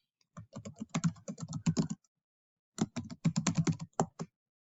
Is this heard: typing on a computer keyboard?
yes